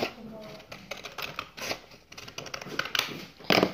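Scissors cut paper for a folded paper chatterbox in a series of quiet, uneven snips and rustles.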